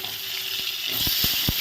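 Potatoes and sweet potatoes fry in hot oil for a mixed vegetable dish, a bright constant sizzle with a few short knocks and scrapes of a utensil toward the end.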